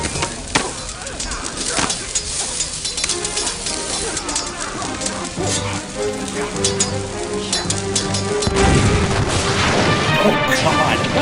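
In the Escape From Monkey Island video game, a cannon fires with a booming shot and then a loud crash and clatter of debris, over game music with a voice speaking.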